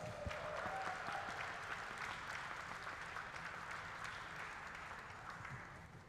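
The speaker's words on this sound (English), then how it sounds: "Let's give them a round of applause," Spectators at a glassblowing demonstration in a museum hot shop applaud the team, a faint, sustained patter of many hands heard at a distance that slowly tapers off.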